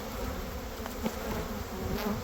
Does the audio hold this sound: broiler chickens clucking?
no